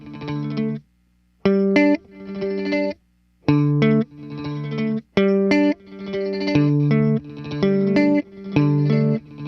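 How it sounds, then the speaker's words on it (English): An Encounter ambient delay and reverb pedal with feedback off plays rhythmic guitar-like tones in short repeated bursts separated by brief silences, building a clipped, loud pattern of distinct taps. "if we turn off the feedback, we really just hear those taps"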